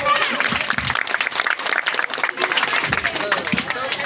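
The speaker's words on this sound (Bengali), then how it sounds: "ওনার জন্য একবার জোরে হাততালি হোক" Audience applause at a Saraswati Puja cultural program, a steady crowd clapping that fills the whole stretch, with voices and shouts mixed in.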